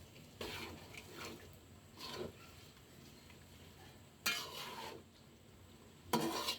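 Meat being stirred with spices in a cooking pot for tehari: four separate bursts of scraping and clinking, each about a second long and spaced apart, close by over a quiet kitchen background.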